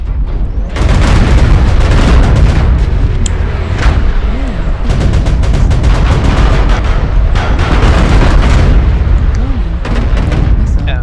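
Incoming missiles burst in the MechWarrior Online video game, a loud, continuous barrage of booming explosions and heavy rumble that keeps up without pause throughout.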